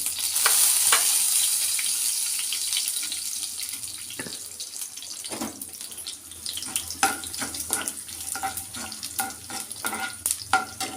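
Cumin and black pepper dropped into hot oil for rava pongal: a loud initial sizzle fading to a quieter hiss, then scattered sharp crackles and pops.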